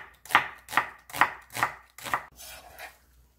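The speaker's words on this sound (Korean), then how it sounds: "양파 중간 크기 1개 썰어줄게요." A knife chops a medium onion on a board for kimchi, with five crisp, evenly spaced strokes and then softer, quicker cuts trailing off, close and alone.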